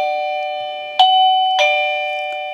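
A SIMPLIT T10 wireless kinetic doorbell receiver plays its default chime: two loud, bright ding tones about half a second apart, each ringing out and slowly fading, with no talk over it.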